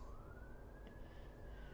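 A distant emergency siren passes by a house, a faint, steady rising wail heard through the walls over low background rumble.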